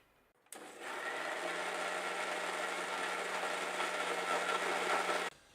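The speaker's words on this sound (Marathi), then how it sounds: "आता मी मिक्सरचं झाकण बंद करून घेतो आणि मिक्सरला लावून घेतो हे आणि एकदम बारीक असं पेस्ट तयार करून घेतो याचा" A kitchen mixer grinder blends mango mastani shake, switching on abruptly to a loud, steady whirring drone that runs for about five seconds before cutting off sharply.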